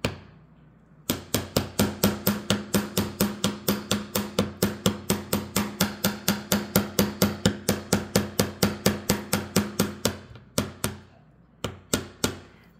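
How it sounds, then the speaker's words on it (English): A metal bead frame is hammered from the back on a jewellery bench, a long run of sharp, evenly spaced ringing taps, close and loud, with a short pause before a few final strikes. "I'm going to hammer on the back."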